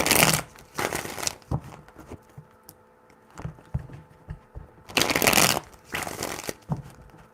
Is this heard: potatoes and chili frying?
no